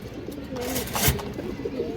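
A silver female Giribaz high flyer pigeon coos softly nearby, with a few low murmuring calls peaking about midway over light background noise.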